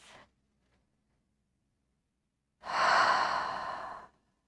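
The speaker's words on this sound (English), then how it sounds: "Nice deep breath." Slow deep breath during a relaxing yoga session, a long, close, airy exhale lasting about a second and a half after near silence, preceded by a brief faint breath at the start.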